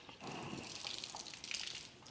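Brief hissing gush of water spraying out of an RV fifth wheel's city water inlet valve as its button is pressed during winterizing, close and steady for a couple of seconds.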